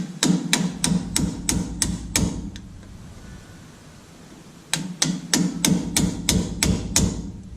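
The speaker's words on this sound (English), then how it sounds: "Grab a hammer." Sharp metal-on-metal hammer strikes on a stuck rear brake part of a GMC Sierra, in two quick bursts of about seven blows each, separated by a quiet pause, ringing close and loud.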